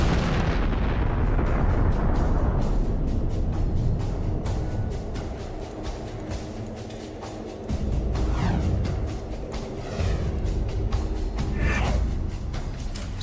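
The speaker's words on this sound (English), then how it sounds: "it will have evaporated so much that the remaining stuff will evaporate in a colossal explosion" A colossal explosion booms in a documentary soundtrack, a thunderous rumbling blast with crackling bursts and repeated sharp impacts, loud and sustained throughout.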